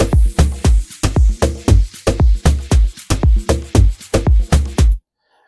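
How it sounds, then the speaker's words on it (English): Sharp snare hits in an Afro house beat repeat in a steady, quick pattern following the hi-hat rhythm at close range, loud and punchy with no talking, then the beat cuts off abruptly into silence. "And some snares and another snare, and they take the rhythm of the hi-hats."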